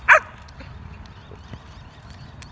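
Dog giving one short bark near the start, then quiet outdoor background for the rest of the clip.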